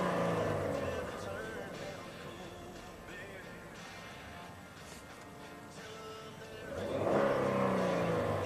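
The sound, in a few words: Ford Explorer V6 engine revving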